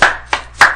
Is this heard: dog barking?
no